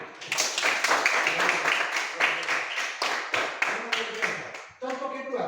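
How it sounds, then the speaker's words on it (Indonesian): A classroom of students claps hands in a lively burst of uneven, overlapping claps lasting several seconds. A teacher's voice comes in near the end. "Siapa sudah ngerti? Tepuk tangan."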